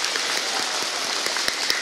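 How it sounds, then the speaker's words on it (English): An audience of schoolchildren and families at a Catholic school's Month of Mary and Mother's Day celebration claps together, a dense, steady patter of many hands with a few sharper claps standing out, sustained throughout without talk. "Give yourselves a clap."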